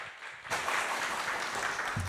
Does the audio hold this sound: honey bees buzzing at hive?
no